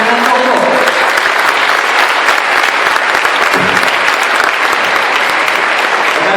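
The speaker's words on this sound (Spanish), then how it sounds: "Vamos a recibirlo con un muy fuerte aplauso, como él se lo merece" A business meeting audience applauds loudly to welcome a speaker, sustained dense clapping filling the room from start to end, with faint voices mixed in.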